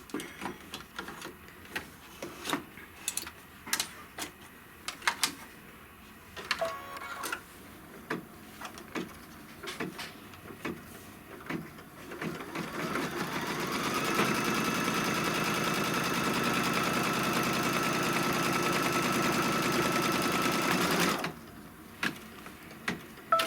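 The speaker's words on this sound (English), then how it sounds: "Now it's going to stitch that across the top." An embroidery machine stitching a line across the top of a taped-down piece runs as a steady, fairly loud mechanical whir for several seconds, after a stretch of scattered clicks and taps.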